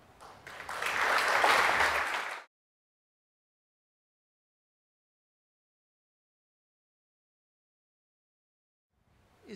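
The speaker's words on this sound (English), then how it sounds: "this audience clapping still listens to the silence that speaks" Audience applause at the close of a lecture on classical music rises to a loud, dense burst for about two seconds, then stops abruptly into silence, with a faint stir at the very end.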